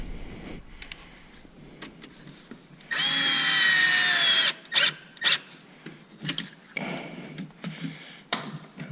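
A cordless power tool drives a bolt tight while replacing the 12V battery in a 2012 to 2014 Tesla Model S RWD, one loud whirring burst of about a second and a half, followed by close clicks and handling noises.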